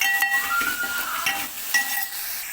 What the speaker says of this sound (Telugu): అల్లం వెల్లుల్లి పేస్ట్ ఒకసారి అయితే కలుపుకోవాలి